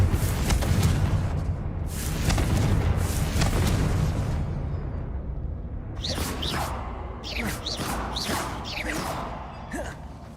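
Confringo blasting spell from the video game Hogwarts Legacy: a loud, low booming blast rumbles for several seconds, followed by sharper whooshing bursts and crackling impacts near the end.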